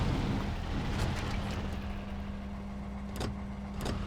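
Truck engine in SnowRunner revving under load, a steady low hum punctuated by a few sharp bumps and clunks as it pushes forward.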